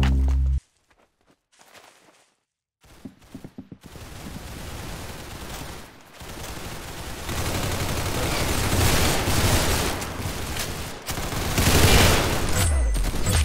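In Roblox Arsenal, gunfire comes in dense, continuous bursts of rapid shots. It builds after a few quiet seconds and stays loud and busy to the end, with some scattered thuds and no talk.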